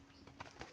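A pigeon coos softly a few times in a short, faint burst, heard at a distance with no voices.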